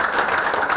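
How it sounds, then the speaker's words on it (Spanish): Brief burst of audience applause at a cybersecurity panel event in Mexico, welcoming a Microsoft speaker: a close, even patter of many hands lasting under a second. "un aplauso por favor a Gilberto"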